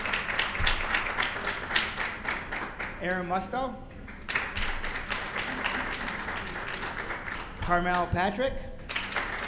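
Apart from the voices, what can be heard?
applause for honorees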